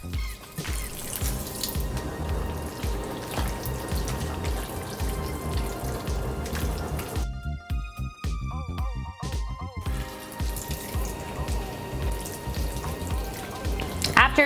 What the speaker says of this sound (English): we're gonna add a little bit of that pasta water